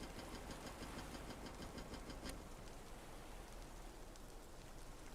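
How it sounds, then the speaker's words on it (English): Boat engines starting up in the video game Stormworks, heard as a steady, loud mechanical rumble with a rain-like hiss throughout and a brief sharp click partway in. "start up the engines"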